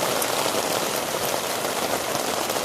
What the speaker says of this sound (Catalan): Va ploure tot el dia